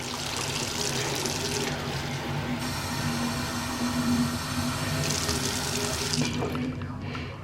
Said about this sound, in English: I'm going to grab some water.